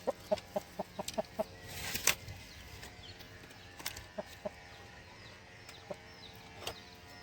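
Newly bought chickens on a farm cluck in short, repeated bursts, a quick run at the start and scattered calls later, with a brief louder flutter in between and no talking.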